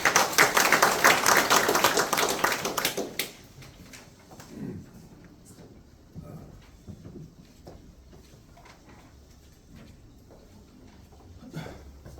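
Applause from an audience at a Korean academic colloquium welcoming the presenting professor: dense, loud clapping for about three seconds, then dying away to a few scattered taps over quiet room noise.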